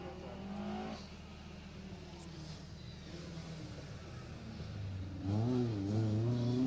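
A front-wheel-drive Peugeot 205 rally car on a Jersey Rally stage revs and passes, its engine note rising and falling, then surging louder and closer near the end.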